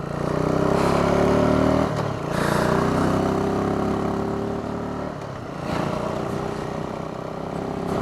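Carbureted 2005 Buell Blast motorcycle engine running steadily up close, a loud, continuous low throb with a slight dip partway through and no one talking.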